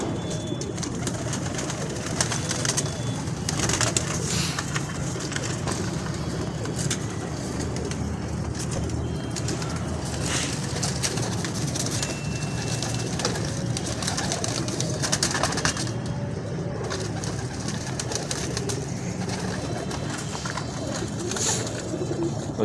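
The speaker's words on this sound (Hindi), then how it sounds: "और ये कबूतर बहुत अच्छा कबूतर है।" Pigeons cooing in a loft during a kabootar bazi show of star pigeons, soft continuous low coos layered over a steady background murmur, with faint traffic and human voices mixed in.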